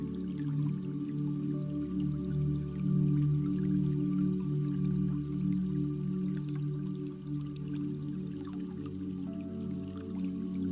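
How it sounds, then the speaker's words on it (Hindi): Soft, sparse water drips ticking faintly over a steady, low sustained drone, calm and continuous with no voices. "ये पानी की हल्की हल्की आवाजें और एकदम साफ पानी आपको अपनी तरफ खींचता चला जाता है।"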